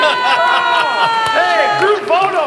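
A big family clan cheers at a Christmas gathering, with loud overlapping whoops, shouts and children's voices rising and falling together, close and lively.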